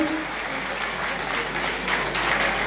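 An audience at a prize-distribution ceremony applauds the guest of honour with dense, steady clapping that runs throughout and swells slightly near the end, with faint voices mixed in.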